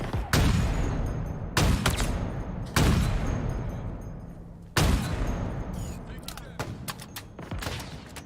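Explosions in Halo Infinite multiplayer: several heavy booming blasts at irregular intervals, each with a sharp onset and a long decaying rumble, followed by a spatter of smaller gunfire cracks.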